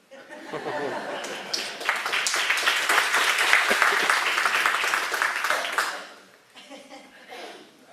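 Crowd at a McAllen election candidate forum applauds, a dense sustained round of clapping with some laughter that fades near the end, leaving faint murmur.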